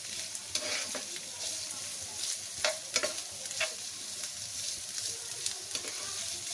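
Onions with stuffing mix frying in a pan on a medium flame, a steady sizzle broken by scattered stirring scrapes and clicks, no talking.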